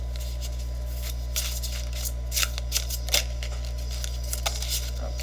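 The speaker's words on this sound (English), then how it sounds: "Have to really concentrate on shuffling because these cards are just slightly larger than the average size" Oversized tarot cards are shuffled by hand, giving a run of quick riffling and flicking bursts over a steady low hum, close and fairly quiet, with no talking.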